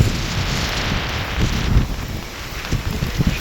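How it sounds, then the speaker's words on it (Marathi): A strong storm lashes a riverside village on the Krishna with roaring wind and heavy pounding rain, a loud, dense, continuous wash of noise with no voices. "किती वादळाचं प्रेशर आहे बाबा, वारं किती जोरात, रायफलने धाटा गोळ्या घातल्यासारखं नुसता पाऊस राहत आहे"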